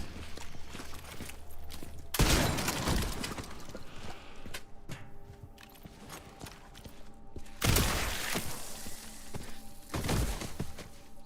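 Gunshots ring out in the Resident Evil game, two heavy blasts several seconds apart, each with a sharp crack and booming tail, over a low ambient background with scattered thuds.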